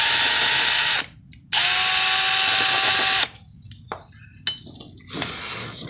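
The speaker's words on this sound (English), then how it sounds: "If we can't, we'll get a Dremel out." High-pitched whine of a Dremel rotary tool grinding a bearing race on a Ford E350 Dana 60 full-floating rear axle, two loud sustained bursts with a short pause, then quieter scraping and clicks.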